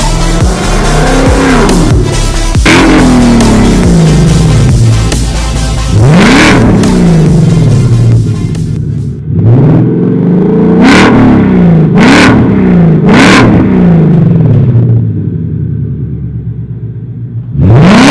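A Ford Mustang fitted with shorty headers and a full exhaust revs hard and loud, with repeated rising blips and throaty surges, then a run of sharp, short throttle stabs near the end, with no talk over it.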